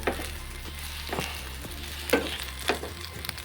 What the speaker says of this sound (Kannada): ಕಟ್ ಮಾಡಿರ್ತಕ್ಕಂಥ ಮೆಣಸಿನ್ಕಾಯಿ ಹಾಕ್ತಿದ್ದಾಳೆ ಅದನ್ನು ಕೂಡ ಸ್ವಲ್ಪ ಎಣ್ಣೆಯಲ್ಲಿ ನೀವು ಎಣ್ಣೆಯಲ್ಲಿ ಫ್ರೈ ಮಾಡ್ತಾ ಇದ್ದಾಳೆ